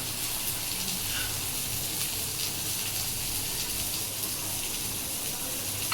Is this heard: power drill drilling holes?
no